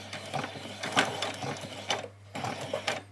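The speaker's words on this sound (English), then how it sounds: "then I'm just going to stitch across that one just the same as we did before" Sewing machine stitching across a small doll's dress, running in short bursts of mechanical whirring and clatter separated by brief pauses, close and fairly quiet, with no talk.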